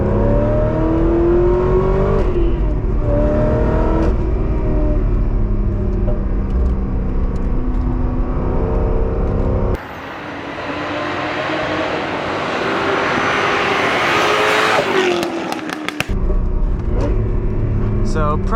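A 2008 Chevrolet Corvette C6RS tuned by Pratt & Miller accelerating hard on a road, its loud engine climbing through revs with a brief gear-change dip and rising roar, heard from inside the car.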